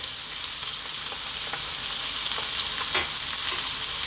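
Red onion and sliced garlic frying in a pan, a dense continuous hiss of sizzling oil at moderate loudness, close up with a few faint utensil taps and no voices.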